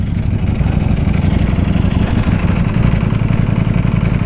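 A 2021 Ducati Panigale V4S motorcycle fitted with a Two Brothers exhaust, its engine running steadily and loud with a deep, even low rumble that holds without breaks.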